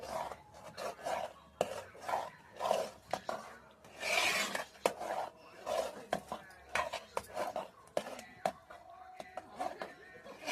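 Food is stirred in a pot cooking over a wood fire, with repeated metal scrapes and clanks in an uneven rhythm, close by; a voice is faintly heard at times.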